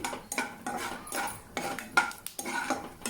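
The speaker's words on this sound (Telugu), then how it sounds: "ముందుగా ఈ ఆయిల్లో ఇలా కొన్ని వేరుశనగపప్పు వేసుకోండి దీన్ని కొద్దిగా వేయించుకోండి" Peanuts being stirred in a couple of spoons of hot oil in a pan, with repeated scraping and clinking of a metal spoon against the pan in irregular bursts close by, and a faint sizzle underneath.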